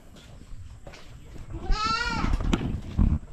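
Dairy goats in a farm birthing building let out one clear, drawn-out bleat midway, with quieter animal shuffling and faint stirring around it.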